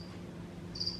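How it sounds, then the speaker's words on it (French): Crickets chirp in a calm outdoor setting, a thin high trill heard briefly at the start and again more strongly near the end over a quiet low background. "On entend enfin le calme avec juste quelques grillons qui criquettent."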